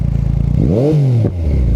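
An Akrapovic exhaust on a 2015 Yamaha FZ-09 motorcycle revs up in one loud rising snarl, peaks and falls back to a rumbling idle, heard close and without talk.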